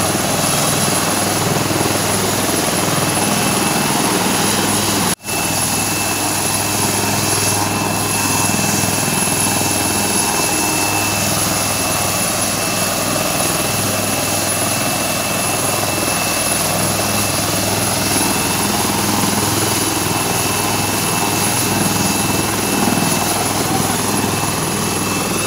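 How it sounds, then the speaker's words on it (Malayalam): A central forces helicopter carrying supply kits lands, its rotor and engine droning loud and steady throughout with no pause. "ബോക്സ് കിറ്റുകളുമായി എത്തിയ ഹെലികോപ്റ്റർ ഇറക്കിയത്"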